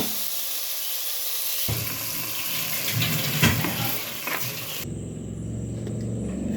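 Water is poured into ground masala for a fish curry, over sautéed onion, tomato and green chillies in a pot. The close pouring rushes over a steady sizzle, then gives way to a settled simmering hiss.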